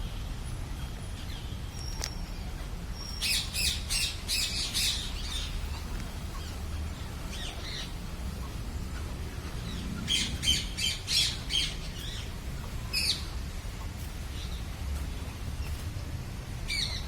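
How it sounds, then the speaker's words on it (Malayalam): A rose-ringed parakeet at Thrissur Zoo gives sharp, shrill squawks in several clustered bursts, one early, another near the middle and a shorter one later, over a low ambient rumble of the surroundings. "Rose റിംഗഡ് parakeet."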